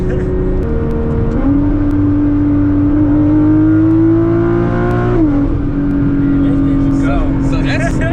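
A Nissan GT-R, one of the fastest in Michigan, accelerates hard from 80 mph. Its engine note climbs loudly and steadily, dips briefly at a gear change, and keeps pulling from inside the car.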